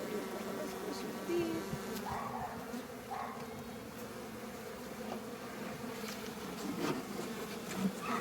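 Honey bees hum around an opened hive during a Varroa treatment, a soft continuous buzz that holds steady throughout, with occasional louder passes as individual bees fly near.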